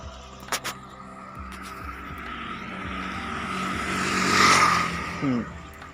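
A motorbike approaches and passes by on a road during an evening walk, its engine rising to a loud peak and then fading, with a couple of brief sharp sounds at the start.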